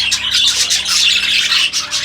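Aviary budgies chirp in a dense, continuous chorus of bright, overlapping tweets and chatter, fairly close and loud, with no voices over it.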